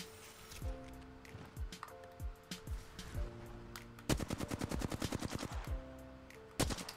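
Apex Legends gunfire: single shots spaced about a second apart with ringing tails, then a fast rattling automatic burst lasting around two seconds, and one more loud shot near the end, all close-up under light game ambience.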